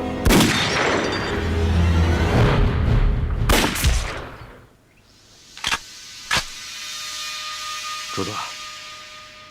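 Gunfire rings out in an anti-Japanese war film battle scene: a loud burst of shots amid shouting and clamour, then a hush broken by several sharp, isolated rifle cracks.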